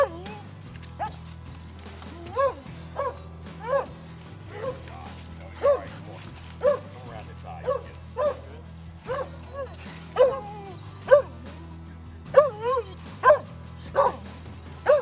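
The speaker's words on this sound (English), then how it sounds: "we got the dogs baying at this tree" Hunting dogs bay at a tall tree in wet, heavily vegetated bayou woods while on the scent of a squirrel, with repeated loud barks and bays at irregular intervals over a low steady drone, and someone talks throughout.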